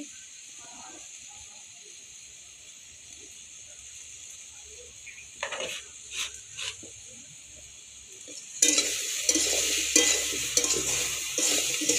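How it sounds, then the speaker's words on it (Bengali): A fish curry with bitter gourd is stirred in a pan, starting with a faint low simmer and a few soft scrapes, then a louder bubbling hiss and stirring noises near the end. "এবারে একটু নেড়ে চেড়ে নেব"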